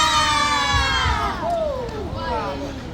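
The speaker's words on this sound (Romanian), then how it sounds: "mâinile sus și tare de ne strigăm ura!" Children at a christening party cheer a loud, shouted hurrah together with crowd noise, a sustained burst of young voices rising and falling over about three seconds.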